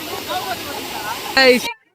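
Kovai Kutralam waterfall flows with a steady broadband rush of falling water, heard close, while a voice speaks briefly over it near the end before the sound cuts off.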